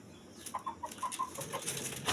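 Chickens cluck and a rooster calls briefly amid soft outdoor farmyard noise, with a rustle of movement near the end.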